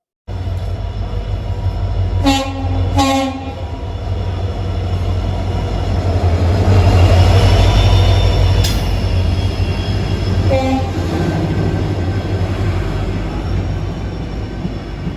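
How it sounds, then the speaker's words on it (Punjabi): The Amritsar Ajmer Express 19614 pulls into Sangrur station, opening with two close horn blasts, then a loud, swelling rail rumble and clatter as the coaches roll past, with another short horn partway through. "ਟ੍ਰੇਨ ਲਗਭਗ ਆਪਣੇ ਟਾਈਮ ਤੋਂ 8 ਮਿੰਟ ਦੀ ਦੇਰੀ ਤੇ ਆ ਰਹੀ ਹੈ ਤੇ ਸਟੇਸ਼ਨ ਸੰਗਰੂਰ ਪਹੁੰਚਣ ਵਾਲੀ ਹੈ"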